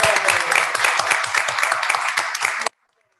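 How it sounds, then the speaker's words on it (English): A council meeting audience claps for a retiring city employee, a brisk burst of many hands close by that stops abruptly after under three seconds. "I will allow you guys to clap on it."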